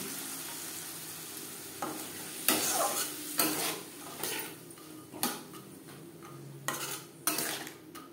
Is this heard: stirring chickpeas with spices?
yes